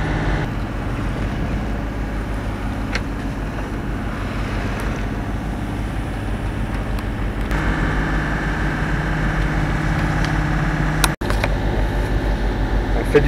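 A boat's inboard engine runs at about 2000 rpm while motoring at around 5 knots through choppy sea. Its low, continuous hum mixes with wind and wave noise, with a sharp knock near the end.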